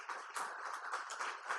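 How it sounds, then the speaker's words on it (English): Faint, dense applause from an audience thanking a community banking panel, a continuous patter of many hands heard from a distance with no voices over it. "Let's give the panel another round of applause."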